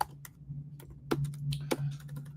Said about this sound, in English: I'm sick of typing.